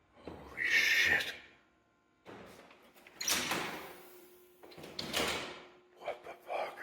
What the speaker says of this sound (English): this fucking door was open and now it just shut by itself